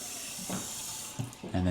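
A bathroom sink tap runs water with strong pressure in a house tour, a steady hissing flow that swells and dips briefly, with a voice heard faintly in the background.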